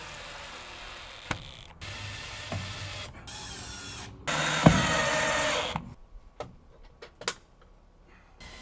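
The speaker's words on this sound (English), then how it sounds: "I'm attaching the cord to the post using these straps and stainless steel screws." A power driver sets stainless steel screws through straps holding an electrical cord to a post in an outdoor kitchen, heard as several close, loud buzzing bursts separated by brief pauses and small clicks.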